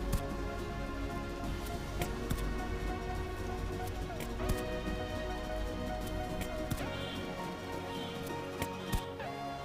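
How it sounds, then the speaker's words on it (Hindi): Rain falls steadily in the video game ARK Survival Evolved, a soft, even patter with scattered sharper taps and clicks layered over it and no voices. "बारिश भी होने लगा है।"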